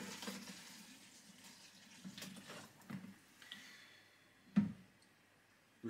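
Water runs from a tap into a container being filled to a marked level, a soft splashing flow with a few louder knocks and clunks nearby.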